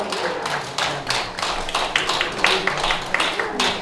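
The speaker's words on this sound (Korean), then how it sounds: "박수 한번 부탁드리겠습니다." An audience at a trot music concert claps for the secretary general being introduced on stage, a dense, steady patter of many hands with faint voices underneath.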